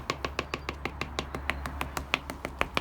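Talcum powder is knocked onto a bicycle tyre before it goes on the rim, giving a quick, even series of light, sharp taps, close and dry, repeated about six times a second.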